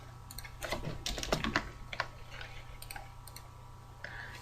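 Quick bursts of typing on a computer keyboard, close and light, with irregular clusters of key clicks separated by short pauses.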